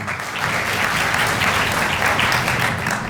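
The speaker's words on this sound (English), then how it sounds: "let's give a round of applause" Audience applause at an awards ceremony, a steady, dense clapping from a large crowd that carries loudly throughout without a break.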